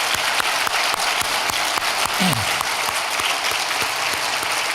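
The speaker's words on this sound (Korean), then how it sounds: "여러분 박수로 맞이해 주시기 바랍니다." A large church congregation applauds visiting pastors from Taiwan, with dense, steady clapping that carries on throughout, loud and close, and a brief faint tonal sound in the middle.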